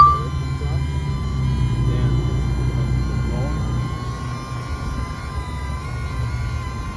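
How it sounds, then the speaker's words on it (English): Small DJI Neo drone landing after a firmware update, a steady high whining buzz of tiny propellers close by, with someone talking over it. "Landing. Okay, let's see if it lands better."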